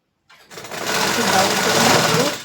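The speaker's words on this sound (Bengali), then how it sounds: "সেলাই করে দেবো।" A sewing machine stitching fabric starts up after a brief silence, then runs as a loud, steady, continuous mechanical whir that fills the rest of the moment.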